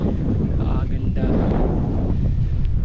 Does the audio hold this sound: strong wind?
yes